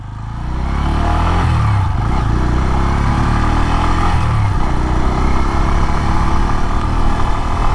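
A Bajaj Pulsar N125 motorcycle engine fires up through its ISG auto start-stop and settles into a steady, loud, close idle hum that runs unbroken to the end.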